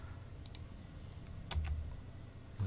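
A few light computer keyboard keystrokes, entering values in Unity, come as two brief click pairs, near and quiet over a low steady hum.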